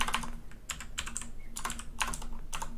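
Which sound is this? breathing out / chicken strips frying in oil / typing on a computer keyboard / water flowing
typing on a computer keyboard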